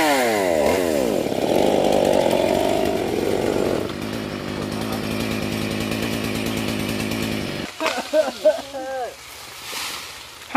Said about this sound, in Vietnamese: Chủ nhà cũng có máy cưa riêng, bà chỉ mé bớt cưa những nhánh dài dài thôi.